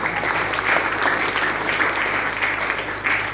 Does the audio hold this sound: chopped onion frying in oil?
no